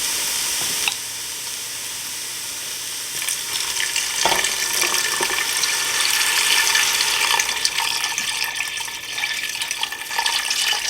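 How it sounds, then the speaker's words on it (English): Water pours steadily into a pot of softened vegetables for a Tuscan vegetable soup, with tomatoes going in too. A continuous rushing splash fills the clip, and faint sizzling sits beneath it. No one talks. "So now I'm going to be adding the water and the tomatoes."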